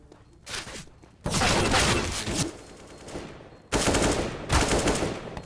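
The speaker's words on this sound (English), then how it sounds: "These pistols are doing damage, but not much more gonna come through." Pistol gunfire crackles in a first-person shooter esports match on the Mirage map, two loud clusters of rapid, overlapping shots separated by a quieter gap, close and punchy.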